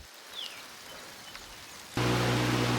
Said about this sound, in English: I don't know how long the rain is going to last.